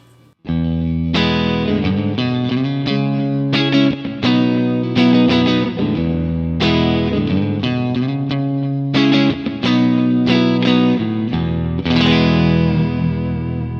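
Electric guitar running through a Kemper amp profile with roughly 4 to 5 dB of 500 Hz midrange boost, playing loud, sustained distorted chords and riffs with little pause between strums, alone with no talking.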